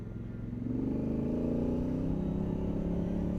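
A motorcycle's engine hums steadily underway, its droning tone rising slightly as it is ridden along, close and continuous with no talk.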